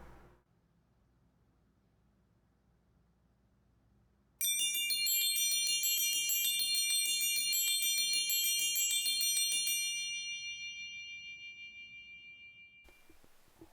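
Chimes stop on a church pipe organ with 5067 pipes, striking a quick bright run of ringing metallic tones that sustain and slowly fade, set between stretches of near silence, with no talk.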